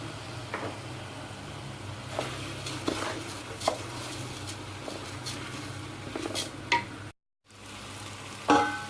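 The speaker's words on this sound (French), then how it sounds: "Maintenant je vais pouvoir ajouter mon riz. Je vais bien mélanger," Rice and spices fry in a paella pan, a soft sizzle under scattered scrapes and clinks as a utensil stirs, one brief silent gap, then a louder scrape near the end.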